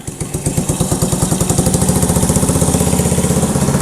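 An abandoned Honda three-wheeler with a gummed-up carburetor sputters and chugs loud and close as it struggles to start, firing in rapid, uneven pulses that steady into a quickening putter.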